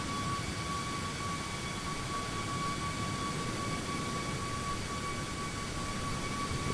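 A PMDG 737-800 jet in Microsoft Flight Simulator 2020 gives off a constant, loud engine roar with a steady broadband rush and faint high tonal whines, unbroken for several seconds.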